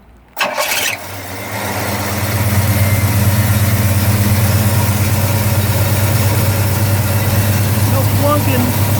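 A 1965 Pontiac Catalina 2+2 with a 421 V8 cranks and fires, then settles into a steady, loud, rumbling idle with slight throttle lift, a faint belt squeal riding on top, heard close up.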